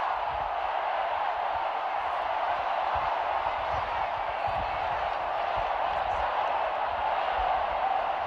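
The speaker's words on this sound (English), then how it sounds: "Crowd settling the players down nicely there" Crowd noise at an Australian rules football match, a steady broad roar held at an even level throughout, heard at a distance with commentary talk running over it.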